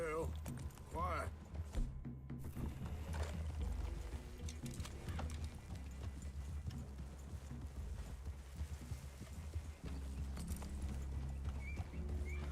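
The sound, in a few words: horses walking in video game Red Dead Redemption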